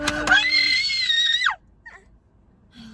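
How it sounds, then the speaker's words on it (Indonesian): A person screams loudly and shrilly for about a second and a half, the cry sliding downward as it ends, followed by short quieter vocal sounds and near silence. "Lo nggak usah teriak."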